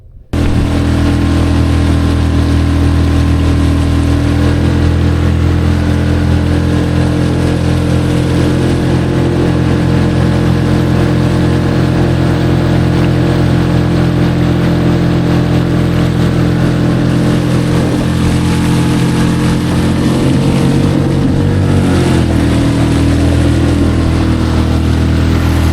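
An outboard motor on a small skiff runs steadily along a shoreline, a loud, continuous engine drone that holds for the whole stretch with slight shifts in pitch.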